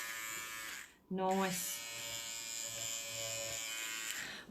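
An overlocker-style machine trims and neatens the edge of a quilt, giving a steady close electric buzz with a whining pitch, and a single spoken word comes over it near the start.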